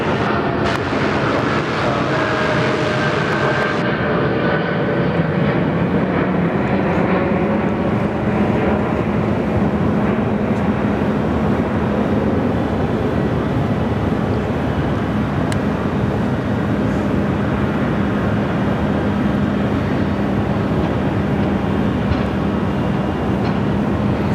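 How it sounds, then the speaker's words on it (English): A Jetstar Boeing 787 takes off from Sydney Airport, its engines a loud, steady broadband roar with a tonal whine that stays heavy and unbroken for the whole span, rising slightly early on and then holding. "Jetstar 13, runway 34 left, clear immediate takeoff"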